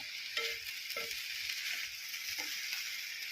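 Hot oil sizzles steadily with a bright crackle as curry leaves fry, with a few soft clinks of a utensil in the pan.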